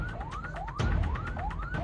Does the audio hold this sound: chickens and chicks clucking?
no